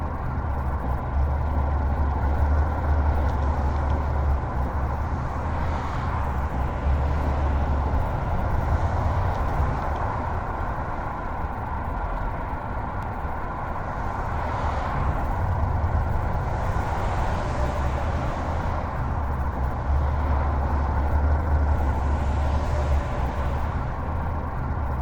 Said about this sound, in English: When AI cars drive near your truck, the engine sounds and passing noises feel more realistic than before.